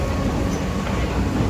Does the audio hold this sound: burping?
no